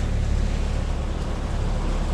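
Rough seas wash against a sailboat far offshore, giving a loud, continuous roar of waves and wind with no breaks and no voices.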